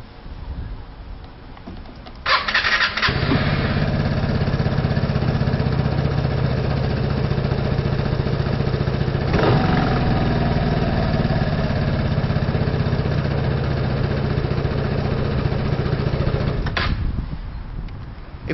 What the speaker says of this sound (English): So what I'll do is I will start her up.